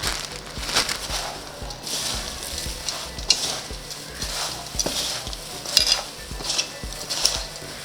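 Homemade sambrani powder ingredients being mixed together in a metal vessel, with a rough rhythmic scraping and rustling and occasional sharp metallic clinks of a spoon, close and fairly loud, no voices.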